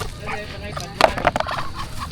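Ducks at a fishpond being fed coconut pulp, with a burst of clucking, quacking calls rising over a noisy outdoor background, close and moderately loud.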